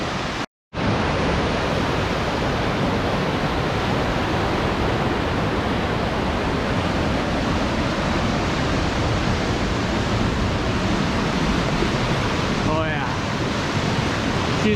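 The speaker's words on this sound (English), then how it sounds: "As far off as you can see, the rapids are just killer right now" River rapids at Piers Gorge in Michigan's Upper Peninsula roar in a loud, steady, broadband rush of high water that fills the whole span, broken only by a brief dropout near the start.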